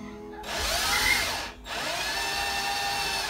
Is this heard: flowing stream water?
no